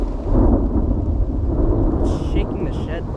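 Thunder rolls and rumbles steadily through a thunderstorm with rain falling, a loud continuous wash of low booming, and brief higher chirps near the end.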